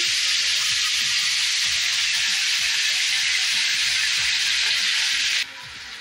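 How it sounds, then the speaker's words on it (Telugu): Tomatoes frying in a pan for a Telugu roti pachhadi, a loud, steady, close sizzle with faint stirring scrapes beneath, which drops abruptly in volume near the end. "టమోటా బాగా మెత్తగా మగ్గేటట్టు ఫ్రై చేసుకుందాము"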